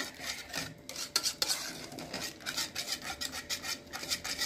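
A utensil stirs butter into a soft homemade cheese mixture in a bowl, giving a steady scraping and rubbing rhythm that stays close and continuous, with no voices.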